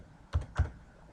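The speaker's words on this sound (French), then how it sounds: "Je vais taper mon texte" Two quick keystrokes on a computer keyboard while entering accounting records, crisp clicks close to the microphone with a short pause between them and nothing else around.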